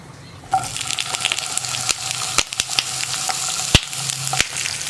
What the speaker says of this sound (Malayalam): ഇനി നമുക്കിതിലേക്ക് നമ്മുടെ വഴുതനങ്ങ ഒന്ന് പിഴിഞ്ഞിട്ട് കൊടുക്കാം.